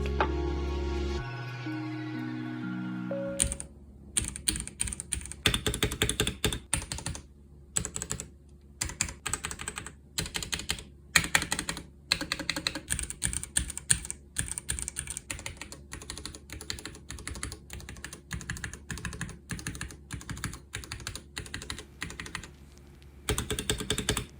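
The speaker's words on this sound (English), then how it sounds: "It is the Ducky 13 Mini with red linear switches" Typing on a Ducky One 3 Mini keyboard with red linear switches: rapid, irregular keystroke clatter that runs steadily for over twenty seconds after a short musical intro, close and clear, with no talking.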